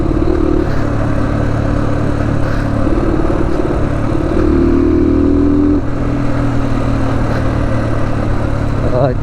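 A motorbike is ridden on the road toward Manang, Nepal, its engine droning loud and close throughout with shifting pitch and wind rush.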